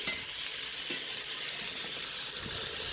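Thick turkey burgers sizzle in a hot pan, a steady, loud hiss of frying with faint bumps as the patties go in, close up and without speech.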